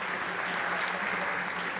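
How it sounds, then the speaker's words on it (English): A crowd at a startup summit stage applauds the health category winners. The clapping is a continuous, even wash of hands for about two seconds, with a faint voice underneath. "A big round of applause to health category right there."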